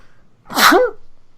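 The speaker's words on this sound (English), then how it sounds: "That was such a cute sneeze!" One quick, sharp sneeze, close and fairly loud, with a short breathy buildup and a small high-pitched finish.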